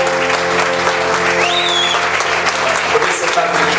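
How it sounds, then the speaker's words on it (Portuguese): Congregation applauding during a Wednesday church service, steady loud clapping mixed with voices and a sustained musical tone underneath, continuous throughout. "Dê uma salva de palmas a esse Deus"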